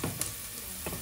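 Pork belly sizzles in a hot pan with a steady crackling hiss and short bursts of spattering and stirring, close and fairly quiet.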